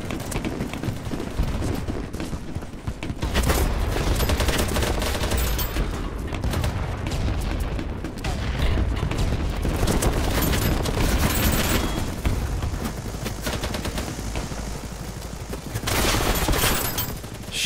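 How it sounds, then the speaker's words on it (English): Dense, continuous gunfire in the video game BattleBit Remastered: rapid automatic bursts and overlapping shots with heavy booms, loud and sustained throughout with no pause. "Shooting through the smoke."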